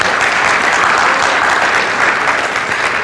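A church congregation claps loudly and steadily, dense continuous applause filling the room for the whole stretch without pauses.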